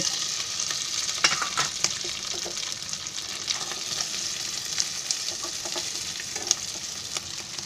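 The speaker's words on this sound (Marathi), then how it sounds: "तेल तापलं आहे, आता त्याच्यामध्ये आहे ना हे जरा बटाटे आहेत ना, ही जरा फ्राय करून घेते।" Peeled, boiled potato pieces fry in hot oil with a constant close sizzle, broken by frequent light scrapes and taps of a spatula stirring in the pan. No one speaks.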